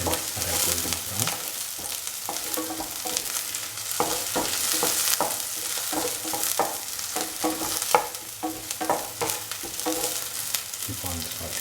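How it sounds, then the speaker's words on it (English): Shallots sizzle steadily in a hot pan for a mung bean coconut stew, with repeated scraping taps of a spoon stirring through the frying. "Saute thoroughly until the shallots are golden brown."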